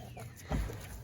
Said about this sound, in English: welcome to my backyard chicken coop. And underneath the coop, you can see the ladies